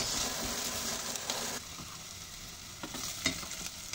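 Garlic and ginger stirred in a hot oiled pan for arroz caldo, a steady close sizzle with soft scraping of the utensil, fading slightly partway through.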